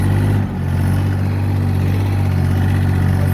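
A DongFeng 244DG mini tractor engine runs steadily while the tractor turns, a loud, close, even mechanical drone with a brief dip near the start and no talk.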